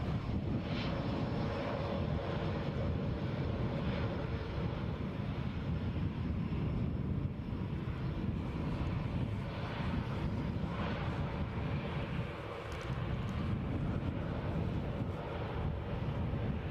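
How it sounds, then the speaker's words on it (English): A jet airliner bound for Madrid rumbles steadily at Edinburgh airport, a broad continuous roar with some wind buffeting on the microphone, fairly distant and unbroken for the whole stretch. "So this aircraft heading to Madrid."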